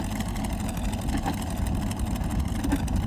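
A Curtiss P-40E Warhawk warbird taxiing with flaps up and the canopy open. Its engine gives a steady, loud low drone that runs throughout without breaks.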